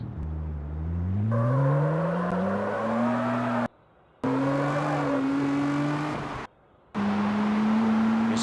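A car engine in the CarX Street racing game revs repeatedly, pitch climbing through each gear, with two brief silent gaps where the sound cuts out.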